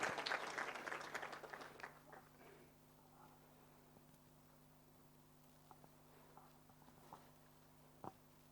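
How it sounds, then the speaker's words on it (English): Audience applause at a compassion-themed public event, a burst of clapping that fades over the first two to three seconds, then a quiet room with scattered faint knocks and small sounds. "A round of applause, please."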